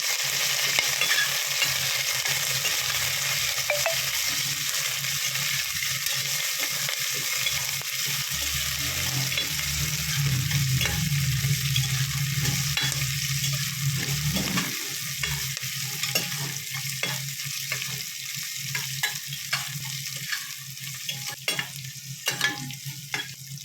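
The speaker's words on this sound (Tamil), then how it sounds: "கருவேப்பிலை போட்டுக்கலாம். நல்லா வதக்கி விட்டுக்கலாம்." Green chili and curry leaves sautéing in oil for mutton kulambu, with steady loud sizzling and frying and frequent spatula scrapes against the pan, close and alone with no voices.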